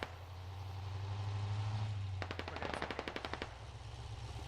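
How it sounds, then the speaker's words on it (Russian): Machine-gun fire from a hill in the video game Squad: a rapid burst of about a dozen sharp shots, moderately distant, over a low engine-like rumble. "С горы стреляет, походу."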